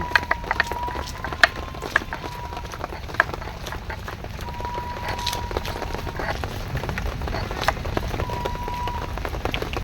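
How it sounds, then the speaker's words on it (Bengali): Heavy rain falls in a steady, dense patter with sharp drips hitting a surface nearby, a continuous wash of noise with faint intermittent tones above it. "পুরো বৃষ্টি হয়ে যাচ্ছে হয়ে চলেছে হয়ে চলেছে বৃষ্টি"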